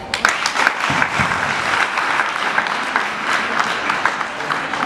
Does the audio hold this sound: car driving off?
no